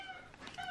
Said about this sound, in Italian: Guardate Gatta Stellina e Gatto Denver.